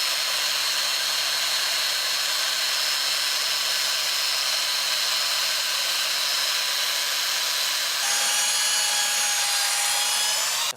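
A cordless belt sander runs steadily across a wooden board, giving a loud continuous whirring rasp with a slight change in pitch partway through, and no voices.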